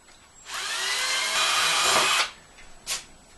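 A power drill bores a 4mm pivot hole through a scrap piece of wood, whining loudly for nearly two seconds, then a short second burst follows after a brief pause.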